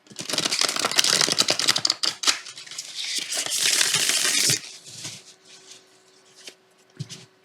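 Lord of the Rings tarot cards riffle and rustle in bursts of crisp, papery shuffling, close by, fading into a few quieter taps and slides at the end.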